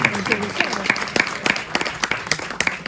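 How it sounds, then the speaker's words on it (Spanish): Audience applause at a Spanish-language book presentation: a steady run of sharp claps from a small crowd, with a voice briefly talking at the start. "primero un aplauso a Eduardo que no vino."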